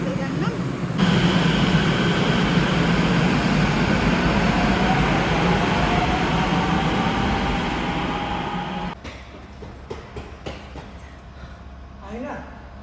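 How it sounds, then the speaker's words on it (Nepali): A train pulls into a station with a loud, steady rumbling roar that cuts off abruptly near the end, leaving quieter background noise and faint clatter. "ट्रेन चाहिँ यस्तरी आउँछ।"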